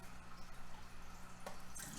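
Tap water runs steadily into a sink while dyed fabric is rinsed, a continuous close splashing wash with a brief louder gush near the end.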